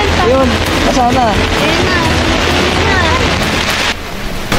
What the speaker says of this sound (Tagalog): Inabutan kami ng malakas na ulan at hangin dito sa tabing dagat.